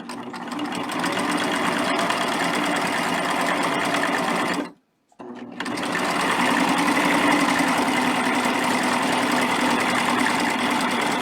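A sewing machine stitches quilt binding fed through a double-fold bias binder attachment, running as a loud, steady mechanical hum that cuts out briefly midway and then resumes.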